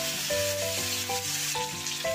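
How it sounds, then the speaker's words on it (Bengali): Onion and tomato frying in melted butter with whole garam masala, a steady close sizzle running throughout, with background music tones layered over it and no voices. "এখনকার টমেটো বড় শক্ত, সেটা একেবারে ভেজে নিচ্ছি"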